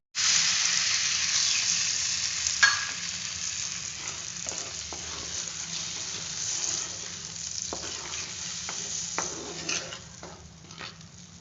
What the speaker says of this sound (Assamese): এতিয়া মই ইয়াতে পানী একাপ এড কৰিম।